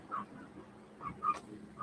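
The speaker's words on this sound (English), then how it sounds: "There's a dog in there." A dog indoors gives a few faint, short whimpering yips that come and go over a dim background, with no speech.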